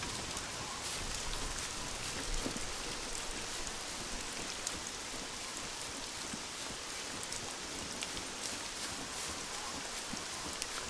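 Steady rain falls in the survival video game SCUM, a constant dense hiss of drops pattering on surfaces with no break, moderately loud and even throughout.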